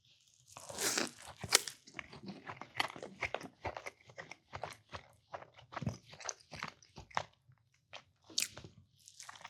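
Close, crunchy bites and wet chewing on a sausage breakfast taco with melted cheese, with repeated crisp bursts and mouth noises in an irregular rhythm and no talking.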